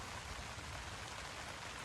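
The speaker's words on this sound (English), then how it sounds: "Being in the tent kind of sucks when it's raining." Steady rain drums on a tent under a tarp at a Boundary Waters campsite, a dense, continuous close patter with no voices.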